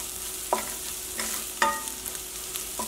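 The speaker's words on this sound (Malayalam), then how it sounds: "ഇനി മഞ്ഞൾപ്പൊടി നന്നായിട്ടൊന്ന് മൊരിഞ്ഞോട്ടെ" Onions with turmeric powder sautéing in a pan, a soft steady sizzle broken by a few light scraping stirs and clinks of a spoon, close and quiet.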